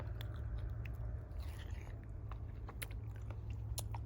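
Someone bites into and chews wild fruit picked from a tree laden with red fruit outdoors, with soft, close, repeated crunching and mushy chewing over a steady low background rumble.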